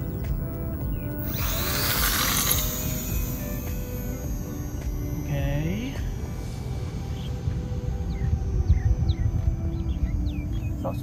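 A small Eachine BF109 (ME109) 400mm mini warbird RC airplane takes off on its maiden flight, its electric motor whining steadily throughout, with pitch sweeps as it climbs, birds chirping in the background and a voice speaking.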